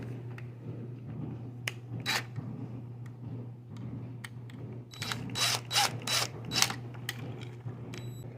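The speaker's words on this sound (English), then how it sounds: "So now what I gotta do is I gotta tighten that screw." A screw on a Casablanca W-32 wall switch is tightened with a screwdriver, making several short scraping squeaks and clicks, sparse at first and then clustered, close up over a faint, steady low hum.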